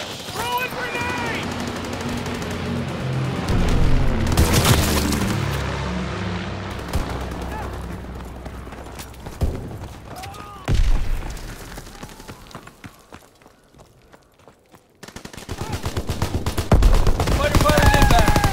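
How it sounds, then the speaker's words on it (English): Heavy gunfire and explosions from Call of Duty WW2 multiplayer on Xbox: sustained machine-gun bursts, a booming grenade blast and rapid rattling fire, with game voice callouts mixed in. "Throwing grenade!"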